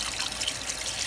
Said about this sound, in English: So I'm adding some water, y'all. Not a whole lot, just enough to cover